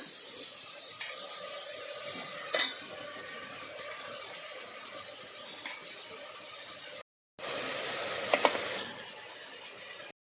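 Chopped onion, tomato and spices stirred in a pan for sambar, a faint low sizzle with occasional scraping, a short silent break, then a brighter, louder stretch of frying.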